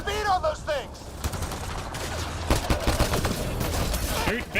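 Rapid gunfire bursts in the sci-fi shooter Mass Effect Andromeda, dense and loud, with shouted combat voices and game effects overlapping throughout.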